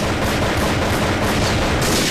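Sniper rifle fire in a mobile FPS shooter on Android, heard as loud, dense, continuous gunfire with no clear gaps between shots, filling the whole moment.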